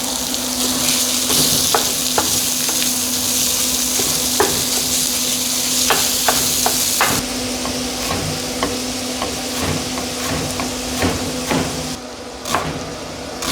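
Sausage fries steadily in a pan with a dense, continuous sizzle, broken by scattered sharp clicks and taps of stirring; no one speaks.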